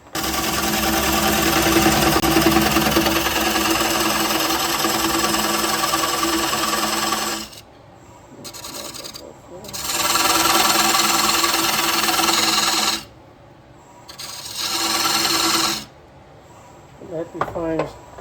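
Ashley Harwood 40/40 bowl gouge cutting a wooden bowl foot on a lathe, a loud close steady shearing hiss in several bursts with pauses between, the lathe humming underneath.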